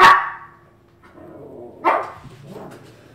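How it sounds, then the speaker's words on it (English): Dogs barking indoors at home: a loud sharp bark at the start, then quieter yips and a second bark burst, with a fainter whimpering bark trailing after. "Can you stop barking, please?"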